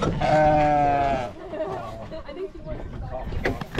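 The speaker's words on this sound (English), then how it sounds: "You want to stop and see the sheep, guys?" Sheep on a Kona coffee plantation in Hawaii bleat close by with one loud, drawn-out call, followed by softer rustling and faint voices in the background.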